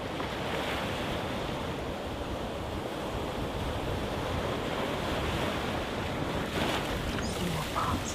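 Ocean waves wash steadily onto the shore, a continuous broad surf roar with some wind rush, loud and close throughout, with no voices.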